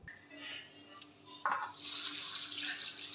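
Flattened rice (chira) being washed by hand in water, with running tap water and splashing that grows louder and steadier midway, near and continuous with no talk.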